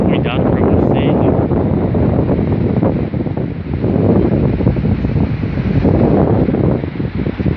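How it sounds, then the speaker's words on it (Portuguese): Strong wind roaring steadily across the microphone at Praia Grande beach, a loud continuous buffeting rush that fills the whole clip with no letup. "Tá ventando bastante."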